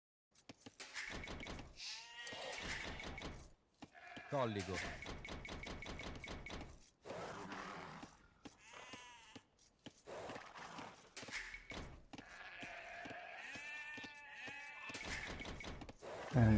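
Sheep bleating in the strategy game Age of Empires 2, a run of short, repeated bleats alongside clicks and other game effects, with a brief spoken word in between.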